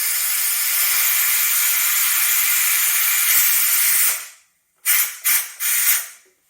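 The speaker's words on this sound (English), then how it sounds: "I'm just going to let off the steam." An Instant Pot pressure cooker vents steam while making prawn paella: a loud, steady, close hiss runs for several seconds, fades away, then returns as three short, sharp spurts.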